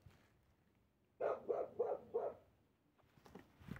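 A dog gives four quick barks in a row from moderately close, then falls quiet before faint rustling at the end; no one speaks.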